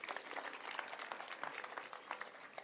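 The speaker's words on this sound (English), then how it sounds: "A round of applause." Guests at the Jitume Digital Hub launch at Butere Girls High School in Kakamega County clap in fairly faint, distant applause, with scattered individual claps rising and falling.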